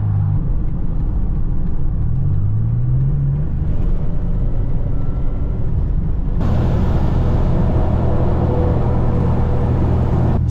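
A car drives on the road during a winter trip from Mexico to Alaska, with a continuous low engine rumble and road noise plus a faint whine. The hiss of tyre and wind noise brightens partway through.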